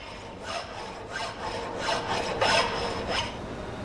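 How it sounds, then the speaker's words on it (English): A coarse file rasps across a piece of mild steel in repeated strokes, roughly one every half second, loud and close with a gritty scraping texture and no talk. "Filing this piece of mild steel removes a lot of material with each stroke."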